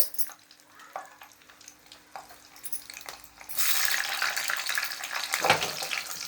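A sudden loud sizzle as tempering seeds and garlic hit hot oil for fenugreek-leaf dal, a crackling hiss that bursts in partway through and keeps spluttering steadily.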